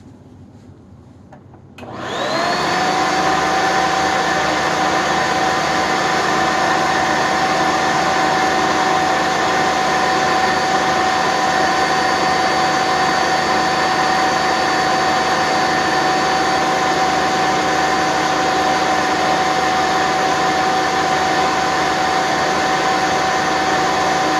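A Sanitaire SC679K upright vacuum cleaner fitted with a Vibra 2 and a fresh belt switches on after a brief quiet moment, then runs at a steady, loud, high whine with its brush roll spinning throughout.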